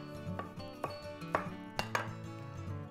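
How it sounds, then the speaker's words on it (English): A knife chops stems of vegetable florets into small pieces on a board, a handful of crisp, irregular thunks over soft background music, close and fairly quiet. "just chop them into small pieces so that they cook evenly"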